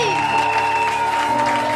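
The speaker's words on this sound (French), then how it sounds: "Acclame très fort pour lui." A church congregation applauds in a dense, continuous wash of clapping, loud and steady throughout, with a sustained tone and crowd noise mixed in.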